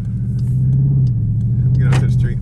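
A 2021 Dodge Durango RT's engine drones with a steady low rumble while the SUV slides on a snowy street, revving and rising slightly near the end, with a voice briefly heard over it.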